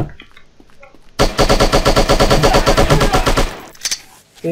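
Rapid machine gun fire from the shooting video game Striker, a loud sustained burst of rhythmic shots lasting a few seconds, framed by quieter game sounds before and after.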